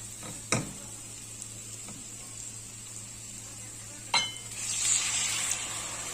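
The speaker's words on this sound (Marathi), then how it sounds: "याच्यामध्ये आपल्याला अर्धा ग्लास पाणी घालायचं आहे" Raw banana curry in a pan sizzles quietly after water is poured in, a faint steady hiss with two sharp clinks of utensil on the pan and a rise of bubbling toward the end, close and without talk.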